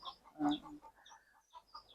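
Country chickens on a small natural farm cluck in short, close bursts, one louder call standing out among softer scattered clucks against a quiet background.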